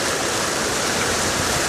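Rainwater from a neighbor's yard and sump pump discharge pours down a small crease, making a loud, steady, close rushing wash like a stream, continuous throughout with no voices.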